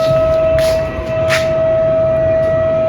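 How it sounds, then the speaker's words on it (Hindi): A loud, steady siren wails continuously at one sustained pitch, with a brief dip partway through, no voices heard; the siren marks the Ramadan moon sighting. "सायरन क्यों बज रहा है बताऊँ?"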